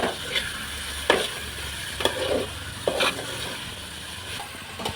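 Onions and tomatoes fry in a pan, a soft continuous sizzle broken by several sharp scrapes and clicks of a spoon stirring, close and fairly quiet, with no talking.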